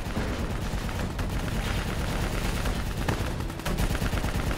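Continuous dense gunfire in Call of Duty Black Ops 3 during a battle against a VTOL and an APC, a loud unbroken roar of automatic weapons and explosions close up, with no voices.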